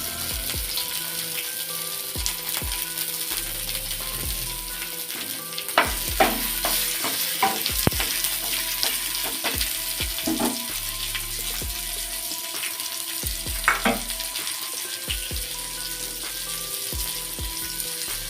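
Tomatoes frying with a little salt in a hot pan, a steady sizzle broken by repeated scraping and clinking strokes of a spatula stirring, close and moderately loud, no talking.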